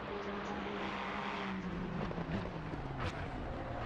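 GT3 race cars circulating on the Imola circuit in a racing game, a steady engine roar with shifting pitch as cars pass, continuous and moderately loud throughout.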